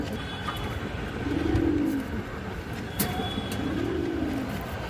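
Pigeons coo in soft, throaty rolls, two distinct low burbling calls spaced a couple of seconds apart, close by over a light background hum with a sharp click between them.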